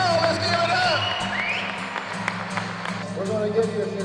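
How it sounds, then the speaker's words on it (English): A crowd at a crappie fishing national championship weigh-in on Reelfoot Lake, Tennessee, gives light applause for the new tournament leaders. The clapping is faint and scattered beneath a loudspeaker voice and a steady low hum. "Let's give them a big round of applause"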